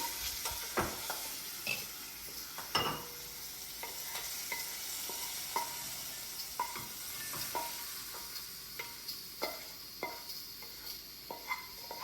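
Asafoetida tempering with green chillies in hot oil, a soft, steady sizzle punctuated by regular sharp metallic taps and scrapes of a spoon against the pan, close up and fairly quiet.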